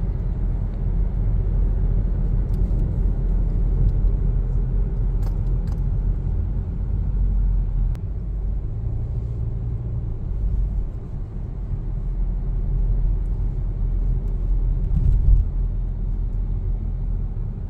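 Road traffic rumbles steadily near Finch Avenue and Islington in Toronto, a continuous low drone of passing cars heard from a moving vehicle, with no one speaking.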